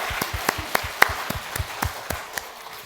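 A church congregation clapping during a Sunday worship service, sharp hand claps landing in a fairly even rhythm, moderately close and somewhat sparse rather than a dense roar.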